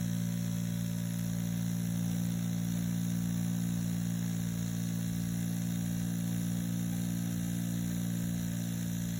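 A Dragonhawk Slip rotary tattoo machine running steadily, giving a constant close electric hum with a high whine layered over it, unbroken throughout and with no talk.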